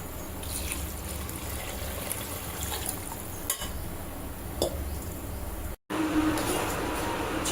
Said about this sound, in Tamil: நான் 3 டம்ளருக்கு 4 டம்ளர் அரிசி தண்ணி ஊற்றுறேன்.